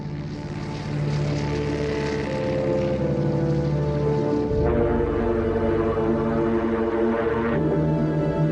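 A continuous low drone of World War II American military aircraft engines heading for Tokyo, layered and humming steadily, with the pitch shifting partway through as the engines pass.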